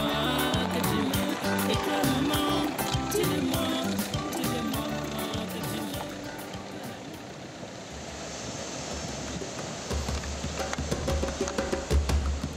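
A waterfall near Bafoussam, Cameroon, at a ritual purification site, pours with a constant broad roaring rush, with wind buffeting the microphone and faint voices underneath.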